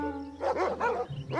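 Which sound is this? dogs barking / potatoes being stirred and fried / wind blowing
dogs barking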